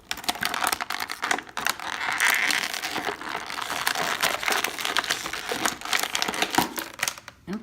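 Knife slicing and tearing a Fortnite Carbide action figure free of its plastic packaging from the back, a busy run of close crinkling, scraping and crackling plastic with no talk.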